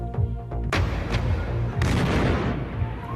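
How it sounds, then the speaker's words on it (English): Explosion in Istanbul, carried in news footage: a series of loud, sharp blasts and booming impacts with dense crackling, a heavy burst near the start and another just after the midpoint, with no voices over it. "an explosion in Istanbul kills 6 people and injures more than 50"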